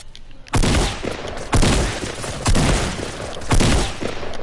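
Loud gunfire sounding as four heavy, evenly spaced shots about a second apart, each followed by a booming, echoing tail that fills the gaps.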